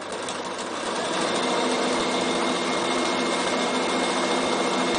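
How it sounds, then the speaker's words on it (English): A Bernina sewing machine quilting at full speed produces a steady, loud, continuous motor whir with a fast stitching buzz, close up and unbroken throughout with no talking. "I am just going to put my machine on full speed"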